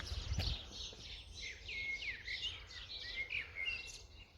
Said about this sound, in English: little sparrows or grey tits.